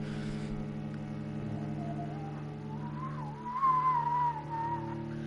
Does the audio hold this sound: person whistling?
yes